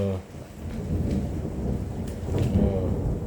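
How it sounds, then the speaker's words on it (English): A thunderstorm rumbles outside with low rolling thunder over steady rain, the thunder swelling and fading in waves, heard alone without speech. "it's thunderstorm out there"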